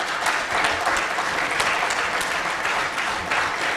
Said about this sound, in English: I would like all of you to clap for them.